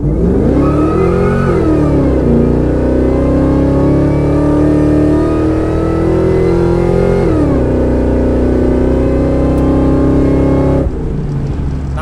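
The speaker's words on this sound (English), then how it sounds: "This one has a great combination of the Supercharger whine as well as a good exhaust" A supercharged 5.4 engine in a 2002 Ford F-150 Harley Davidson pickup revs up and settles repeatedly, loud and close, a whining supercharger rising and falling over a deep, rumbling exhaust note.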